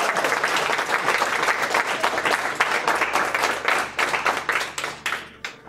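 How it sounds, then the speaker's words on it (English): An audience applauds a speaker at a wine history lecture, with steady dense clapping that holds loud throughout and thins into scattered claps near the end, no voices over it. "give him a round of applause"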